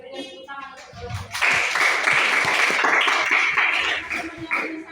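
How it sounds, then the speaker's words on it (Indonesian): A classroom of students claps for a group, the applause swelling in after a voice speaks and then carrying on as a dense, lively patter of many hands, fairly close and loud. "Kita berikan tepuk tangan untuk kelompok."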